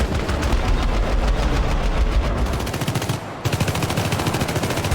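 Rapid machine-gun fire in the video game Syndicate, loud dense bursts of repeated shots that briefly pause near the end before resuming at a steady rapid rhythm.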